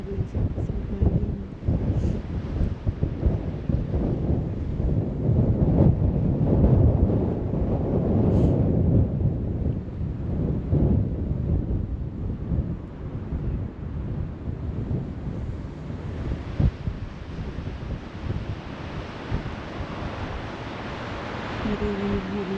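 Strong, steady wind buffeting the microphone at Paraparaumo Beach in New Zealand, a continuous loud roar with surf and gusts rising and falling throughout, no voices.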